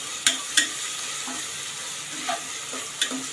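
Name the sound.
tomatoes and onions sautéing in oil in a pan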